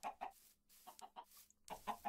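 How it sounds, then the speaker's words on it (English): Chickens cluck in the video game Minecraft, giving a few short, soft bursts of clucking with brief pauses between them, fairly faint and without any talk over them. "And a bunch of chickens."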